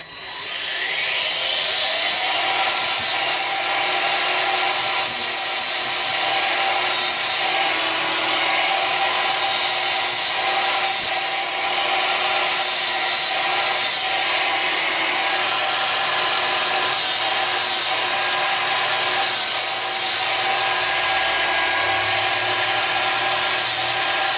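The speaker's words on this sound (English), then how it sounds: "Okay, so use the flap disc." A flap disc on a power tool grinds a broadhead blade, a loud continuous abrasive rasp running close for over twenty seconds with brief rhythmic dips as the blade is passed across the disc.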